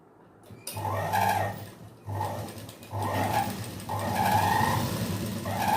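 Sewing machine stitching along the edge of a patchwork blouse, running in several steady bursts with short pauses between them, close and fairly loud with no talking.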